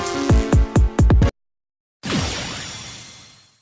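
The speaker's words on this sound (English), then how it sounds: "you gotta admit that her fancy fireworks are pretty flabbergasting" Cartoon fireworks from My Little Pony animation: a rapid run of five sharp popping bursts, a second of silence, then one loud whooshing blast that trails off into a long crackling fade.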